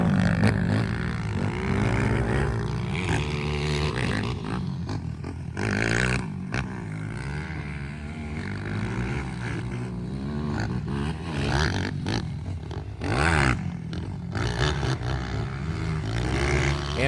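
A Yamaha YFZ450 quad engine revs hard on a practice track, with a loud continuous roar that rises and falls as the throttle opens and closes, punctuated by sharper surges.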